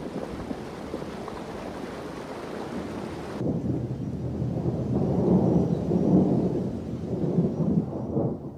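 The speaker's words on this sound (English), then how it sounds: "Thunderstorms." Thunder rumbles through a mountain thunderstorm with rain, a steady hiss of falling rain and wind over deep rolling rumbles that swell and ebb.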